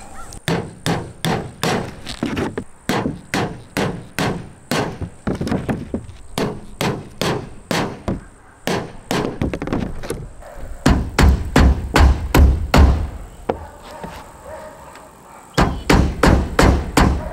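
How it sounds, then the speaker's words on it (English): Nails being hammered into a mobile home roof, sharp close strikes in quick rhythmic runs separated by brief pauses, loud and alone with a thin steady whine in the background. "we're at the nailing stage. I'm starting to get nails in these."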